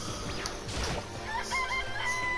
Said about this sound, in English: It's a chicken. It's really alive,